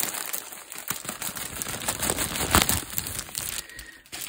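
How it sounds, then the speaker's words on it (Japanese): Close crinkling and rustling of Keito Zakka Stores yarn packaging handled at a table, loud irregular crackles building to a peak midway, with no talking over it. "ガサガサうるさくてごめんね"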